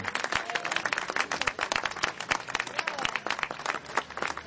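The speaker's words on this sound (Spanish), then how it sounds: "Fuerte el aplauso para Manuel Cabrera Leal de Concepción." A crowd applauds at a marathon award ceremony as a prize is handed out: steady, dense hand clapping with sharp individual claps standing out, sustained throughout, fairly close and moderately loud.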